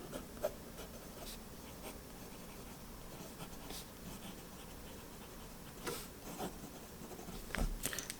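A fountain pen writes on paper near a Parker Jotter, giving soft continuous scratching and light strokes, quiet and close, with no talking.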